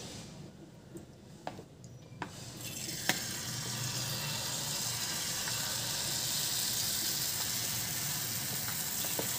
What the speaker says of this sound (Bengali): এরকমভাবে সবগুলো ভেজে নেব জিলিপি